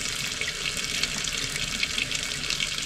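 Water gushes steadily from a camping trailer faucet in a Keystone Bullet 261RBS as leftover water is pushed out of the line during winterizing, a constant close splashing hiss with small sputters, no voices.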